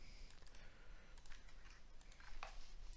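Computer keyboard keys tapped while typing a command at a Windows command prompt, a handful of quiet irregular clicks close by over faint room hiss.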